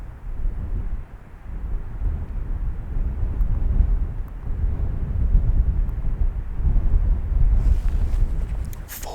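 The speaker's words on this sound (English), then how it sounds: "That wind is so strong." Strong wind buffets a microphone on a mountainside during a deer hunt, a steady loud low roar that swells and eases in gusts across the whole stretch, with no voices.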